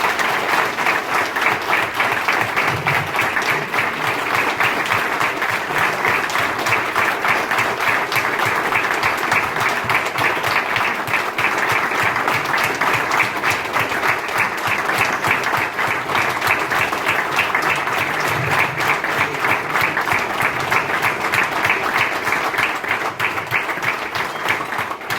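An audience at a New Year address breaks into loud, sustained applause, a dense wash of clapping that holds steady for about twenty-five seconds with no voices on top.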